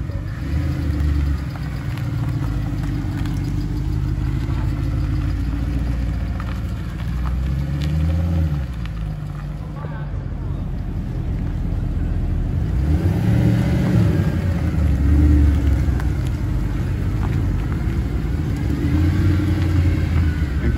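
A 2011 Mercedes SLS AMG with a 6.2-litre V8 rumbles steadily at close range, its deep idle swelling into a couple of heavier revs midway and again near the end, with no talk over it.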